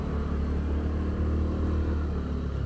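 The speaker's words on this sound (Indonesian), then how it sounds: "Ada motor tuh." A motorbike engine drones steadily at night on a mountain slope, a low continuous rumble heard from some distance with no talk over it.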